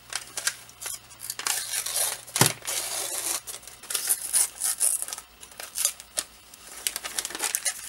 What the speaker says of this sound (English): you can just pull it right off and expose the beautiful, beautiful acrylic